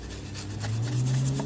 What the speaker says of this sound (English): We are going to wire brush the surface, or the contact surface of where the brake pads are going to touch.